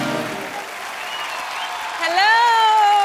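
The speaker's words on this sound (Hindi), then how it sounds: "जोरदार तालियां एक बार कनिका कपूर के लिए।" A studio audience on a TV comedy show claps steadily, and a voice rises over the applause near the end.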